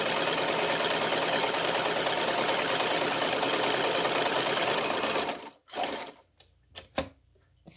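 A freshly cleaned and oiled sewing machine runs fast and steady for about five seconds, close and loud, with a rapid mechanical chatter. It stops abruptly, and a few soft clicks and taps follow.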